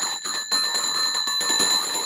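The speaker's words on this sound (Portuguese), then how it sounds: "Tocando o sino aí, ó." A bell rings steadily at a school that was never renovated after a fire, a bright sustained metallic tone with repeated strikes over a broad noisy background, no talking.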